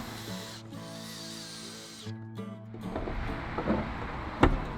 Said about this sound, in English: I'm going to pre-drill because this wood is very hard